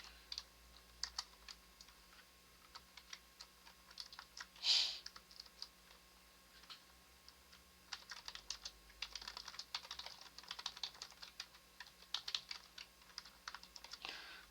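Someone types an email message on a computer keyboard, with quiet, quick irregular key clicks in bursts. One sharper click or tap stands out, and a faint steady hum sits underneath.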